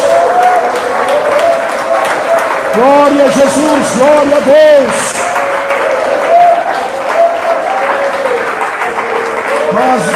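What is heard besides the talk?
church congregation clapping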